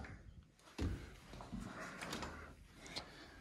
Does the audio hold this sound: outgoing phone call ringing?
no